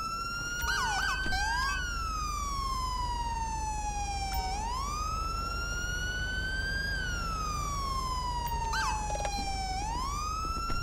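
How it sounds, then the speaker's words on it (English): A loud police car siren in the video game LSPDFR wails continuously, sweeping up and down in long cycles with a harsh, rising-and-falling tone, with no talking. "Is that seriously my siren?"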